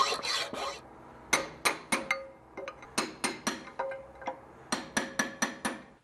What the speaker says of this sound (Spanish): vamos a limar un poco para que quede esto mejor, más fino